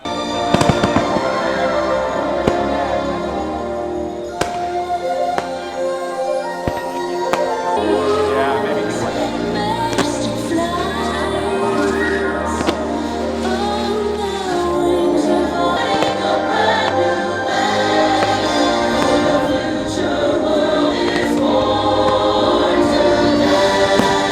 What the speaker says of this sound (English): We just watched the fireworks, and we're on our way out.